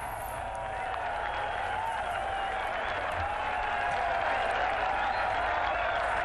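Gallery applause rises at a professional golf tournament, the Memorial Tournament in 2001: sustained distant clapping and crowd noise, steady and spread out, with a faint tonal hum running beneath.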